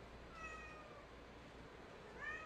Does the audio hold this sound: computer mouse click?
no